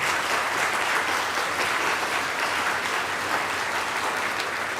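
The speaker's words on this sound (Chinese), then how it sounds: "请大家来鼓掌鼓励" A church congregation at a Taiwanese-language worship service applauding, a steady dense patter of many hands clapping at moderate distance for about five seconds.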